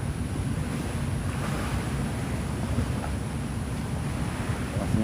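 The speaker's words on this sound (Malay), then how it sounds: "Oh, ada angin." Wind roars steadily and loud, a continuous broad rush with no talk over it.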